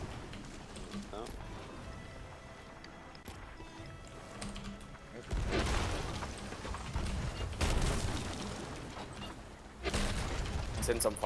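Ship cannons fire in a naval video game battle, with heavy booming blasts arriving in several loud bursts over continuous chatter from players talking.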